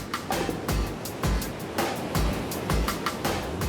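Ocean waves at Manly Beach, Australia, roll in and break in a steady series of rushing, hissing surges, with a low crash each time a wave collapses. No voices are heard.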